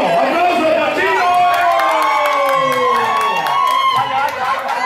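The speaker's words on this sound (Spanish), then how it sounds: "¡Aplauso para el chino!" A crowd at a bingo-hall birthday celebration cheers and whoops loudly and continuously, with excited voices rising and falling throughout.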